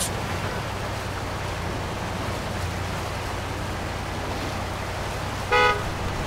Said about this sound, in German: Wer hupt denn hier?